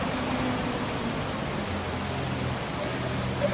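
Heavy rain pours down during an East Coast thunderstorm, a steady, dense hiss that holds at the same loudness throughout with no voices.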